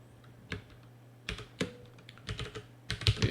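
Computer keyboard typing while code is entered: irregular bursts of clicking keystrokes, close and fairly loud, separated by short pauses. No talking.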